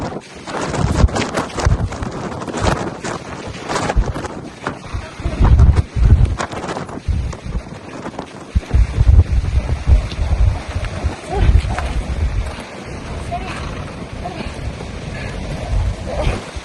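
Strong wind buffets the microphone at station 7 on Mount Fuji, loud irregular gusts rumbling and roaring in bursts throughout, with heavy low buffeting and no clear speech.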